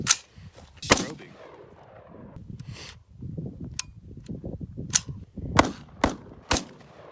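A Delta Team Tactical FRT-15L3 forced reset trigger rifle fires a series of sharp, loud single shots at irregular intervals outdoors, with quieter shuffling and handling noise between them.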